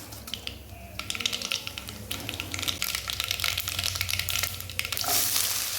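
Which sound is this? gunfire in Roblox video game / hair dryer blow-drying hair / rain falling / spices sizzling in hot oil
spices sizzling in hot oil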